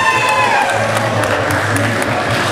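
A wrestling crowd in a sports hall roars with steady applause and cheering, a dense, loud wall of clapping and whoops that holds evenly throughout.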